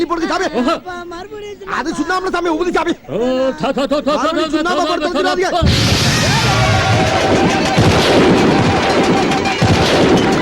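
Gunfire fired as a send-off salute at a village funeral, a loud sustained burst of shots and blasts filling the second half after a stretch of sung and spoken voices.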